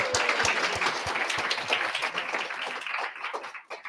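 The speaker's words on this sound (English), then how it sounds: "this is also a good point to ask you for applause for Mr. Eugene over there" An audience at a Python Christmas meetup claps together in a brief burst of applause, dense and steady before thinning out toward the end.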